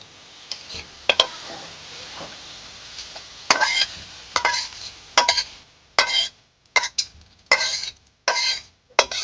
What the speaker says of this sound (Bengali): গাজরটা হালকা ভাজা ভাজা হয়ে গেছে একসাথেই আমি বাঁধাকপিটাও ভেজে নেব